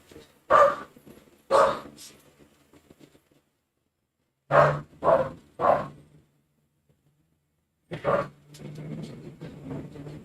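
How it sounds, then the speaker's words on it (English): A dog barks in short bursts: two quick barks, a pause, three more, then another pair, fairly close and loud, with a quiet background between. "What are you barking at?"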